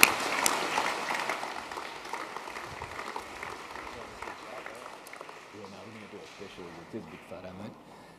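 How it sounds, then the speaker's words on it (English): Applause from an audience at an annual school sports awards ceremony is loudest at the start, then fades steadily into softer scattered clapping while a voice begins talking near the end. "So we can please give Harry a round of applause."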